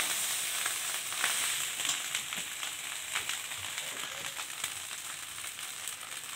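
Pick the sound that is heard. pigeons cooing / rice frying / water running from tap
rice frying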